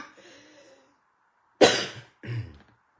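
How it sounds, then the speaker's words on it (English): A brief murmur of voice, a pause, then two sharp, close coughs in quick succession. "Oh, I need to cough, sorry."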